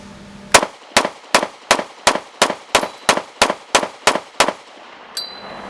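A Walther PDP Pro pistol fires a rapid string of about twelve sharp, loud shots at an even pace, each with a short ringing decay, followed by a quieter clack near the end.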